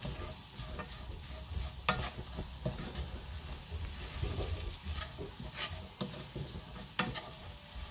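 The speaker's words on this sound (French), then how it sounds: "vous faites cuire vos oignons dans le beurre" Onions frying in butter in a pan, a steady close sizzle broken by sharp scraping clicks of stirring scattered throughout, with no talking.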